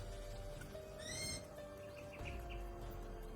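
Large birds calling ahead in an outdoor setting, a short burst of harsh, layered calls around the middle, with a few fainter chirps afterward over steady background noise.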